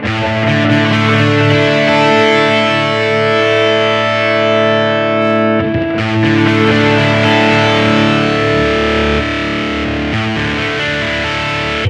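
Boss GP-10 guitar synth running a poly distortion hex fuzz model, a thick sustained chord ringing with dense buzzing harmonics, briefly choked near the middle before a second strummed chord rings on loud and alone.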